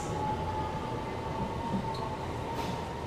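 Inside an MRT metro train in Kuala Lumpur, a steady rumbling roar of wheels and motors fills the carriage, with a faint whine and occasional light squeals, continuous and loud with no talking.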